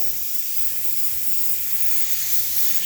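Black paint sprayed from an airbrush onto rusted metal gives a steady, close hiss that runs without a break through the whole moment, with a low hum faintly beneath it.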